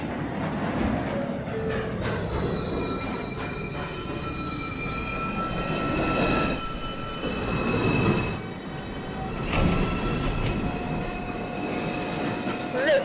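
A New York City Subway 2 train at Lincoln Center station rumbles loudly and continuously, with high metallic wheel squeals ringing over the clatter of the cars.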